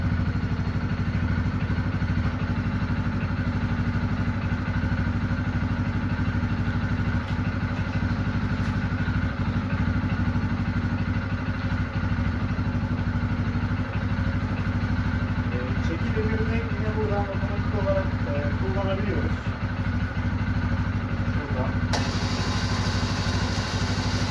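A Kuba TRV 350 ATV engine runs steadily with its exhaust note, a constant loud mechanical drone with some clatter throughout and no break.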